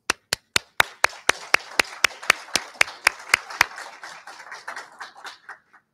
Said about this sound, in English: Please accept our virtual and actual applause.